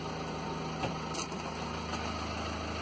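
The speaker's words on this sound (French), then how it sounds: "Il faudrait peut-être songer à éteindre la voiture." A car engine idles steadily at low volume, a constant low hum with no speech over it.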